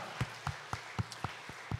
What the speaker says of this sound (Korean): 우리 박수로 감사의 마음을 전달하고 가겠습니다